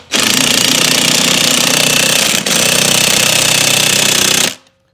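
Loud, steady mechanical rattling hammer-like drone as a bead breaker is tightened while mounting a Maxxis Bighorn ATV tire on a Can-Am Renegade XXC 1000R, running continuously for about four seconds with a brief dip midway, then stopping.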